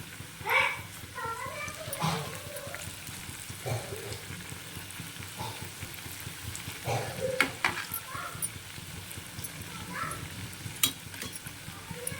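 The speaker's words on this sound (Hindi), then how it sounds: "कोफ्ते जो है तलावत है मस्त" Kofta balls sizzle and crackle steadily in hot oil in a home kitchen, with occasional stirring and turning, while children's voices and talk drift in the background.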